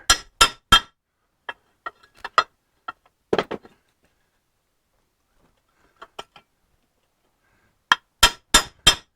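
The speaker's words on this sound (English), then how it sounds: "Hammer it down." A hammer strikes a steel body panel against a metal plate in short bursts on a 1955 Triumph TR2: quick clanks in groups, a pause, then a final flurry of sharp, ringing hits.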